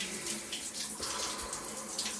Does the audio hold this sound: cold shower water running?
yes